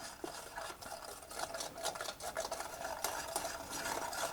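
A spoon stirs a dairy-free, egg-free chocolate pudding mixture in a pot over a low flame, working in the dry ingredients with continuous quiet scraping and swishing strokes close by, no voices.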